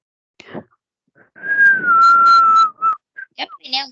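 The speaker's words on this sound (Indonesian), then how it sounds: "Siapa ini yang bersiul?" A person whistles a sustained, gently falling tone lasting over a second, then a few short chirpy whistle notes follow, fairly close and clear in an otherwise quiet setting.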